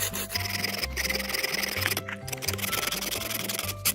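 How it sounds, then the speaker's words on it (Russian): A hand saw rasps back and forth through bone in steady, rhythmic strokes, close and fairly loud. "Выпиливаем ненужные части."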